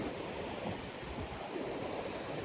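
Sea waves break on a UK shoreline into white water, a constant broad roar of surf with no voices, steady and fairly close.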